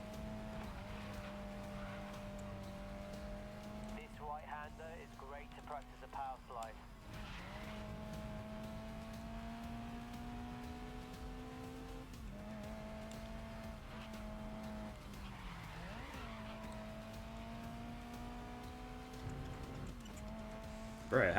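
Race cars in a video game drone on with steady engine tones that rise and dip through gear shifts, a continuous mid-level hum with brief squeals. Occasional talking is heard over it.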